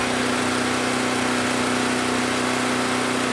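A Champion remote-start portable generator engine runs steadily at a constant drone, close and fairly loud, with no change in pitch and no voices over it.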